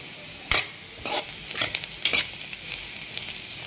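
Onions fry in a pan for tomato chicken curry, a soft steady sizzle broken by several close metallic scrapes and clinks of stirring, evenly spaced and bright.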